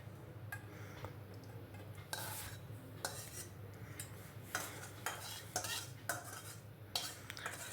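Meat curry cooked in ghee is stirred with a spoon, giving repeated scraping and clinking strikes against the pot over a faint sizzle, close and moderately quiet, with no voices.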